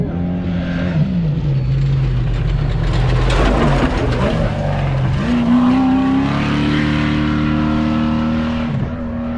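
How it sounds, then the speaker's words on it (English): Powerful trophy truck engines roar and rev as the trucks race past close by, one after another, during the Baja 1000 desert race in Mexico, with rising and falling pitch and no talking. "Now the trophy trucks are coming through, so we'll show you some of that. They are flying."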